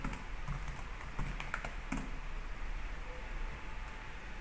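Someone types a git clone command on a computer keyboard: soft, faint, irregular key clicks in a quiet room, with a few slightly sharper taps.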